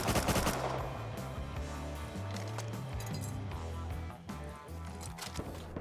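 Rapid bursts of gunfire in the survival game Rust, loud and close, with sustained automatic volleys cracking over one another and a brief lull near the end before a few more shots.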